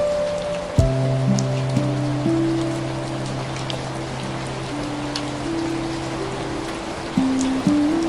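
Steady rain falls over a greenhouse roof as a continuous soft hiss, with a low, sustained musical drone underneath throughout.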